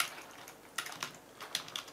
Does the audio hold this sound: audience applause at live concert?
no